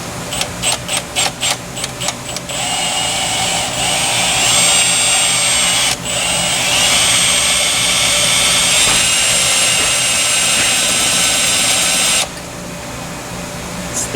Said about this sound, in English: Don't mind me, just drilling holes.